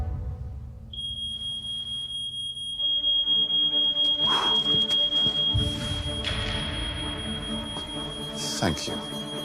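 A smoke alarm's steady high-pitched electronic tone drones continuously over a low rumbling background, with a couple of brief sharp sounds near the end.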